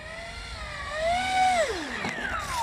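An electric RC model airplane flying in to land on a cold autumn day, its motor whine sliding down in pitch as it throttles back and passes fairly close, with no talk.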